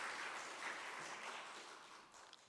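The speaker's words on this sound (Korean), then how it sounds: "하나님께 영광의 박수를 올리겠습니다." A church congregation applauds during a Korean Sunday worship service, giving a soft, even wash of clapping that stays fairly quiet and steady for a couple of seconds before tapering slightly.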